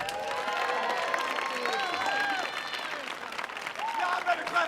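An audience at a youth poetry performance on the Millennium Stage applauds and cheers after a poem, dense clapping with whoops, while voices talk and shout over it.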